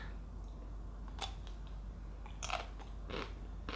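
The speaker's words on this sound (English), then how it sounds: "Let's go ahead and take a bite." Faint crunchy bites into a chocolate-coated ice cream bar with a double chocolate hazelnut shell, a few short crisp cracks spaced over a few seconds against quiet room noise.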